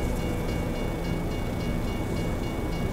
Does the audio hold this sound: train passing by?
yes